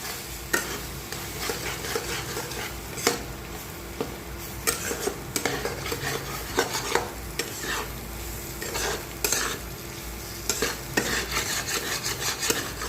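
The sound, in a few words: stirring and frying eggs in a pan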